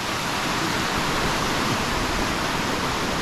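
Gabur Gabur waterfall in Peñablanca, Cagayan roars as a steady, dense wash of falling water, loud and close, with no break across the whole stretch and no voices.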